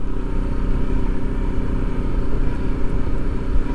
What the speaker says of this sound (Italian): Se do gas si ferma. Devo tenere la moto al minimo.